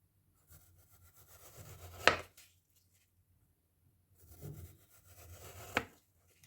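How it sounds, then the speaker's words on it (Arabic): Two crisp knife cuts through a pear on a board, each a short slide ending in a sharp chop, spaced a few seconds apart, close and fairly quiet. "غادي ندوز نقطعها شرائح على هذا الشكل"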